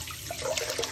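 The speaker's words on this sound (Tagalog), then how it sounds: "Hugasan lang ninyong mabuti para matanggal yung usok na kumapit sa ating pinuneg." Water running and splashing while smoked meat is washed by hand, a faint, steady trickle with small splashes and no talk.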